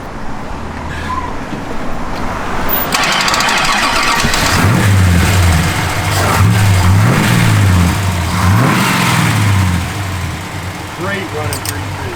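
A 1966 Dodge Coronet 500 cranks over, fires up and settles into a loud, close, steady rumble with a few revs, its V8-style idle pulsing throughout.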